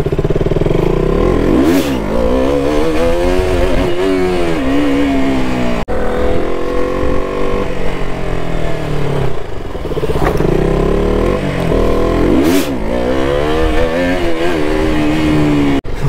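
A KTM RC390 motorcycle revs hard through repeated rising and falling engine sweeps while pulling wheelies near Jhanjra, Durgapur, loud and close throughout with no talk over it.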